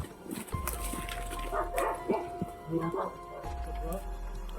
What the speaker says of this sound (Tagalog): Maraming galang aso dito.